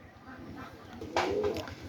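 Domestic pigeons kept with squabs give a soft, brief coo at close range over low background noise.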